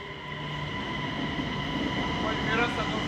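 A city train in Denmark rolls past close by with a steady heavy rumble and sustained whining tonal hums, growing slightly louder toward the end.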